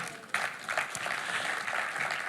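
Church congregation applauding and acclaiming the Lord: a sustained wash of clapping that swells abruptly and holds steady, with faint cheering voices mixed into the applause.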